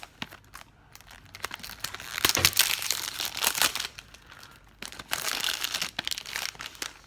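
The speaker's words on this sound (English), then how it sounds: "We can go ahead and move on to the unboxing of this packaging" Louis Vuitton perfume packaging is unwrapped, with crinkling and crumpling of paper and wrapping, quiet at first and then louder in bursts of handling.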